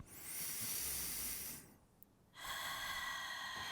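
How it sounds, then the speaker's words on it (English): Slow, deep breathing close to the mic: a long airy inhale, a brief pause, then a steady hissing exhale. "Slow down the breath, listen to the sound of your breathing"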